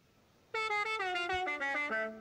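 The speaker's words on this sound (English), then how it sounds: "And we also have the Mexican hat dance car horn" A Mexican hat dance musical car horn in the video game Forza Horizon 5 plays a short, bright melody of about a dozen quick notes, loud and close, then stops.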